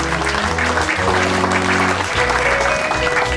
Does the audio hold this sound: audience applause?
yes